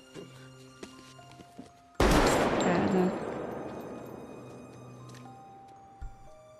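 A sudden loud burst of film gunfire erupts from a quieter background and then decays over a couple of seconds, with a faint thump afterward.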